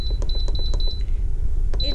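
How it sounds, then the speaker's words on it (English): A slow cooker's control panel gives a quick string of short, high electronic beeps as its button is pressed repeatedly, then one more beep after a pause, close over a low background rumble. "I'm gonna hit this minus button here"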